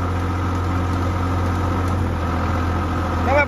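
A tractor engine holds a steady 2000 rpm, a loud, even low-pitched drone with a constant hum, heard close and alone with no change in pace.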